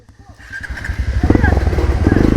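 Motorcycle engine climbing an uphill trail, revving up from quiet into a loud, pulsing roar that builds steadily, with a person talking over the start.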